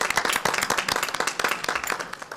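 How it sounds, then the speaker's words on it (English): A small group claps at a council budget retreat, quick uneven hand claps that are fairly loud at first and then thin out to sparse, scattered claps toward the end. "Big round of applause."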